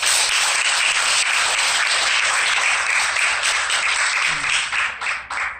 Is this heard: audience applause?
yes